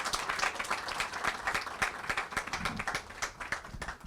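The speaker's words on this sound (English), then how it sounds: "So let's give Nana a round of applause" A modest crowd claps for Nana, the Prince of the Asante Kingdom, an uneven patter of individual claps rising and falling in loudness, fairly close and brief.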